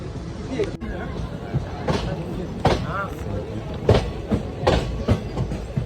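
A crowded Ganpati festival special passenger train on the Konkan Railway, departing Panvel, rumbles steadily with rhythmic clacking of wheels, while a background murmur of voices continues throughout.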